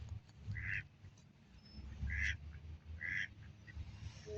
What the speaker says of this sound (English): So let me see if I can get the quacks in the footage.